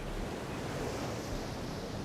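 Ocean waves and surf wash steadily in a soft, continuous broadband rush, fairly distant and faint, with wind blended in and no voices.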